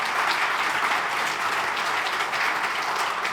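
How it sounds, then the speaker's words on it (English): A brief burst of dense audience applause at a literary festival panel, steady clapping from a crowd filling the whole moment without talk. "More rounds of applause are good."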